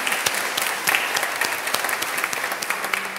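A church congregation gives a warm round of applause, many hands clapping steadily at moderate volume with scattered sharper claps, no talking over it.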